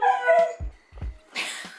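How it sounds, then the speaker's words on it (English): A dog lets out a short, close howl that breaks into a few yips and whimpering bursts, loud and alone with no talking. "And if he's howling, he's gonna howl"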